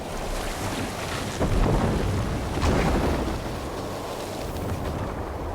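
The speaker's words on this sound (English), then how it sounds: "Head towards the eye of the storm!" Thunderstorm at sea in the video game Assassin's Creed Valhalla, heard aboard a sailing ship: a steady, loud roar of wind and rushing water, with deep rumbles swelling twice across the scene.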